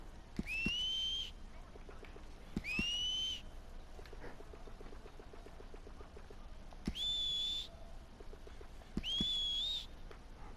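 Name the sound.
character whistling in the video game Red Dead Online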